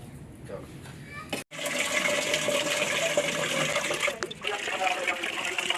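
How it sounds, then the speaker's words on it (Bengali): Greens being washed under running water, a steady close rush of pouring and splashing that fills most of the clip after a brief knock, with faint background voices. "তাহলে আমরা এটা সুন্দর করে ধুয়ে নেই"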